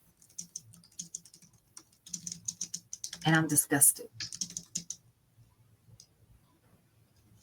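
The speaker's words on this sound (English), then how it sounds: "I hear you typing away" Typing on a computer keyboard: rapid, irregular clicks in close bursts, heard under and between a person speaking, with a dense flurry in the middle before the keystrokes thin out.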